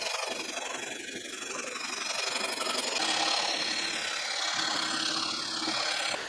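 Steady rasping of a file re-crowning the frets on a guitar neck for a parts-built Strat-style guitar, continuous close scraping strokes lasting throughout with no talking.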